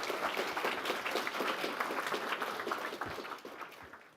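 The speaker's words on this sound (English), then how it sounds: "But until then, round of applause." Conference audience applauding at the end of a talk, dense steady clapping from many hands that holds for about three seconds before tapering off.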